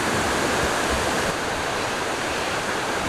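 River rapids rush after heavy rain, a loud, dense, continuous roar of turbulent water close by, steady throughout with no talk.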